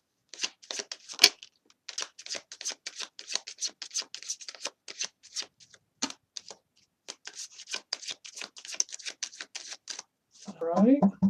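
Tarot cards are shuffled in quick, crisp riffling bursts with short pauses between them, close and clear, and a voice briefly speaks at the end.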